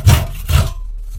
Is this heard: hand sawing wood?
yes